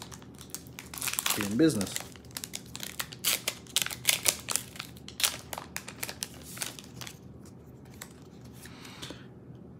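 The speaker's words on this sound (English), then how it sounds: "If I can get this pack open" Pokémon Burning Shadows card pack foil crinkled and torn open, with close, crisp crackling and ripping in irregular bursts and brief speech over it.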